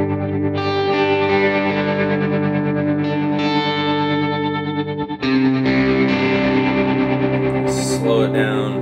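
GFI System Specular Reverb V3 reverb pedal shaping a sustained guitar tone into a lush, swelling wash with chorus-like shimmer and long decaying tails, one chord change midway.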